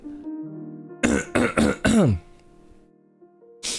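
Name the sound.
throat clearing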